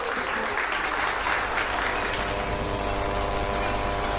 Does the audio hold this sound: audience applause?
yes